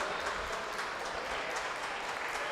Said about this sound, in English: Round of applause for best man Dave Ostrovsky.